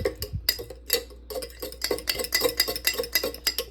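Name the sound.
stirring sourdough bread ingredients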